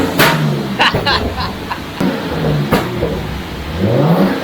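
Nissan Stagea's RB25DET turbo straight-six running on a dyno during a run-in tune, revving up and down in repeated sweeps with rising engine pitch, loud and close, with some mechanical clatter and people talking nearby.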